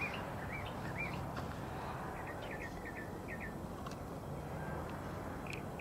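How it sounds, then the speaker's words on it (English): Small birds chirp in the background with brief repeated tweets scattered across a steady, faint hiss of ambient noise. "Just the birds chirping in the background."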